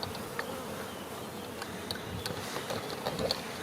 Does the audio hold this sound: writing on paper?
no